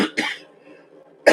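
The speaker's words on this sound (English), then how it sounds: "it's just that cough" Several harsh coughs come in quick succession close up, with a short quiet gap before a final forceful cough.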